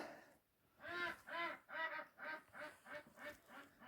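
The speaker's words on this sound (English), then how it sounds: "You can hear the ducks in the background" Ducks quack in a rapid series of about eight rhythmic calls, moderately faint and slightly distant, with no talking over them.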